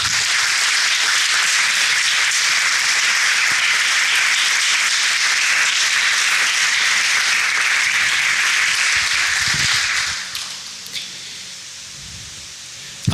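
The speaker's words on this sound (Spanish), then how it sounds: "Dale un aplauso al Señor." Congregation applauding in a church during a sermon, loud dense clapping filling the room for about ten seconds before it drops away to quiet with a few scattered sounds.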